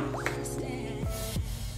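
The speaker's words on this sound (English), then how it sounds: "I'm just going to wash my face." Water running and dripping while someone washes their face at a sink, with close splashing, plops and drips over a steady flow, heard alone.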